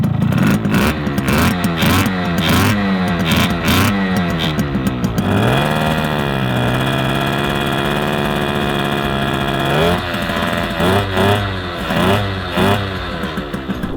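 A motorcycle engine, restarted after being drowned at a river crossing, runs loud and close, with blips of revving, a steady idle in the middle and more throttle bursts near the end.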